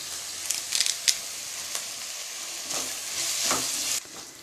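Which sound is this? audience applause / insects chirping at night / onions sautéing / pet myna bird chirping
onions sautéing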